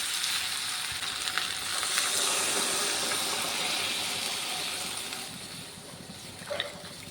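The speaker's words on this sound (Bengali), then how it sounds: "এখন আমি জল দিয়ে দেবো" Water poured into a pan of okra and potato curry makes a continuous hissing sizzle and bubbling, fairly close and steady, easing slightly toward the end.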